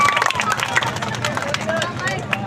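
Audience at a poetry recital claps loudly and continuously, a thick wash of close clapping with murmured crowd voices mixed in.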